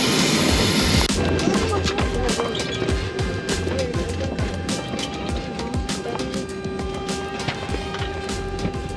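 Steady loud roar of a LATAM airliner's engines close by on the ground, a continuous broad rush with a tonal whine running throughout and no talk.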